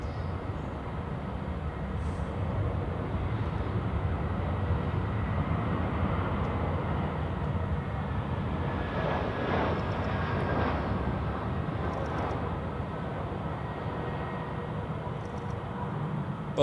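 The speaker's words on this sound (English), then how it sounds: "But a smooth landing there for Eurowings." A Eurowings airliner lands at Zurich Airport, a steady, broad jet roar that stays fairly even throughout, heard from a distance with no talking.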